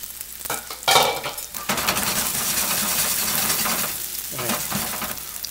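Kimchi scallion pancake batter hitting a hot pan, a loud close burst of sizzle that settles into a steady, crackling frying hiss, with a few utensil clinks, no voices.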